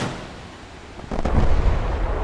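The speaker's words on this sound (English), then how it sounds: "The ripple fire there, the way the rockets all hit there was actually pretty sweet." Ripple-fired rockets from a diving aircraft striking a main battle tank in War Thunder, heard as a rumbling cluster of explosive bursts that swells loudly about halfway through and keeps booming to the end.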